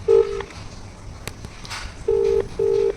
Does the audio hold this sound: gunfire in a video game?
no